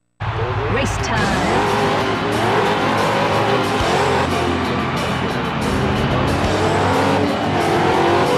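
Stock cars racing around a track in Ford Racing 2 on PlayStation 2, with loud continuous engine roar, shifting revs and tire squeals under a thick layer of game sound.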